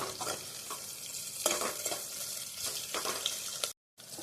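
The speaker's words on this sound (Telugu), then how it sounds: "ఆనియన్స్, పచ్చిమిర్చి బాగా వేగినాయండి" Chopped onions and green chillies frying in oil with cumin and mustard seeds, a continuous crackling sizzle broken by repeated scraping strokes of a spoon stirring the pan, ending with a brief silent gap.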